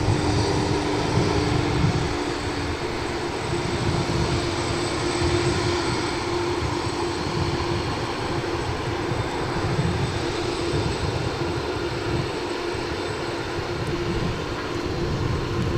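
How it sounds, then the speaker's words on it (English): A UPS MD-11 cargo jet takes off, its engines giving a continuous, loud, broad roar with a steady whine that holds evenly throughout, heard alone without voices. "So this MD-11 off to Louisville"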